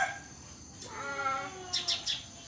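Sparrows chirp with a few short, bright notes in quick succession near the end, over a faint steady tonal background.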